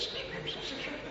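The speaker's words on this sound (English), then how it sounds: "little sparrows, they love the bird feeder. So many, they're always just coming, tweet, tweet" Little sparrows chirping in a busy flock at a bird feeder, a dense continuous twittering held at steady loudness throughout, fairly close.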